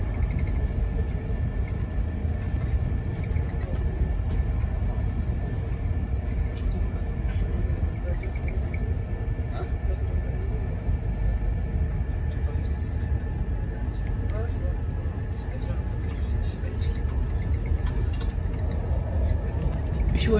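An SNCF train running along the sinuous French Riviera coast between Saint-Raphaël and Nice, heard from inside as a steady, continuous low rumble with faint rattles and clicks throughout.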